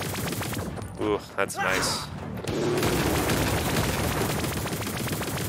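A freeze rifle fires in the video game ANVIL: Vault Breakers, a rapid, loud stream of close shots that rattles on without pause after a brief remark from a player.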